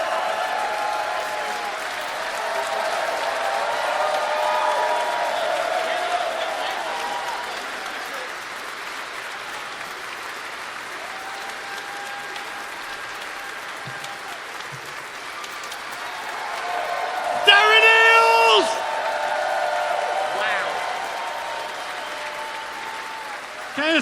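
An audience at a live stage show applauds a presenter, sustained clapping that fills the room for many seconds, with a brief burst of cheering partway through, a few voices heard around it.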